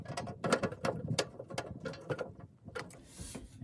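A Phillips screwdriver tightens a screw during assembly of a Camp Chef Woodwind WiFi pellet grill, giving close, quick ratcheting clicks and metallic scraping in uneven bursts, with a faint hiss near the end.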